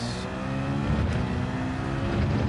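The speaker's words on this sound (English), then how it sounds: "The Evo 10 is such a great car, and the turbo sound is crazy." In a video game, a Mitsubishi Evo X tuned to around 1100 horsepower revs its engine and turbo, a loud sustained roar climbing and surging without any talk.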